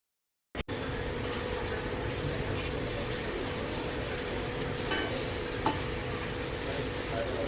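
Flour-coated chicken popcorn pieces drop into hot oil and fry with a loud, dense, continuous sizzle, broken by a few small pops and bubbling surges.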